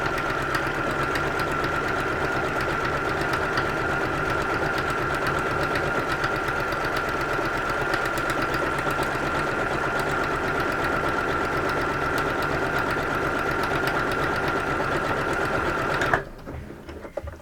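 A sewing machine runs steadily and loudly while stitching a buttonhole on a detachable hood, its even mechanical whir holding without pause for about sixteen seconds before stopping abruptly.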